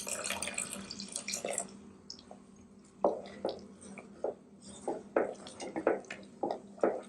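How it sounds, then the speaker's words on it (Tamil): Milk poured into a simmering butter chicken gravy, heard as soft wet splashes and drips trickling in short irregular bursts, close by and fairly quiet. "ஸோ இப்போ வந்து கொஞ்சமா பால் சேர்க்க, இது ஆப்ஷனல் தான்."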